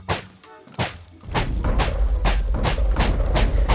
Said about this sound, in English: Just fire all the cannons.